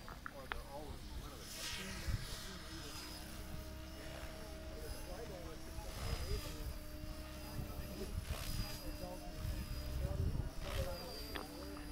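A steady whirring whine of a radio-controlled model helicopter's rotor during a fun-fly demonstration, rising and falling as it maneuvers, with a voice talking over it.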